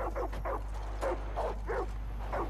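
A dog in Far Cry 5 barks repeatedly at a moderate distance, giving a series of short yaps in an uneven rhythm over a steady low hum.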